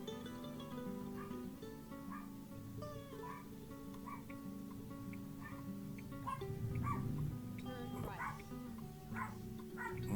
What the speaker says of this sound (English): My dog's having a bark.